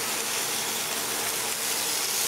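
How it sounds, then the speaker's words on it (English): Steaks fry in plenty of oil and butter in a pan, a loud, steady, dense sizzle that runs unbroken without any talking. "Okay, just lots of oil this time. Oh, I like the butter. Look at that sizzle, sizzle, sizzle."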